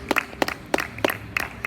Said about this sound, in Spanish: cuando aplaudimos para el Señor con fuerza, con ganas